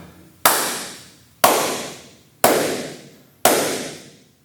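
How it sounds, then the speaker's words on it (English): Four single sharp hand claps for body percussion land on a steady beat about one second apart, each crisp and close with a reverberant tail, with no talking between them. "Number 1 will always be a clap."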